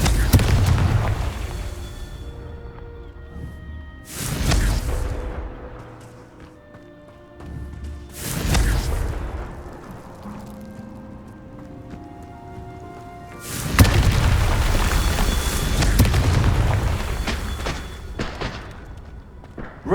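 Several Confringo spell explosions in Hogwarts Legacy boom out one after another, each loud blast fading into a long rumbling tail, with musical tones sounding between them.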